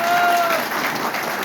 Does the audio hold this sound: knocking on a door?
no